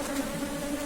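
A steady, close swarm of honeybees hums around a hive in one continuous drone at moderate loudness, with no voices.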